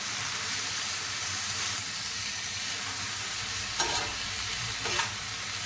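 Green chillies and onion fry in a pan with a strong, steady sizzle close by, plus a couple of soft stirring scrapes near the end, and no talking.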